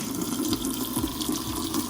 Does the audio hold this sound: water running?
yes